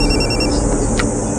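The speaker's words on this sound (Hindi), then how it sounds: "अबे मेहता का फोन है, क्लाइंट अपना।" A phone rings at an evening party, a short electronic ring tone sounding loud and close over a dense background of music and chatter.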